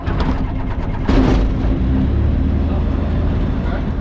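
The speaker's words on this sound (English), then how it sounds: "So pull out the choke and we start the engine." An Ikarus C42 light aircraft engine starts close by, a loud rough burst followed by a steady low running drone that continues to the end.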